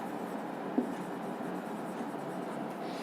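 A pen or chalk writes a definition by hand in a chemistry lesson, giving a steady soft scratching that runs continuously and fairly quietly, with no talk over it.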